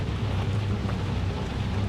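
Continuous stormy rumble of a thunderstorm in the horror video game Outlast 2, dense low noise of wind and rain with a steady loud roar and no distinct thunderclap.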